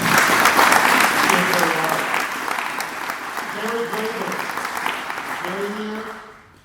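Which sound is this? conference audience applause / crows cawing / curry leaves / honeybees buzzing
conference audience applause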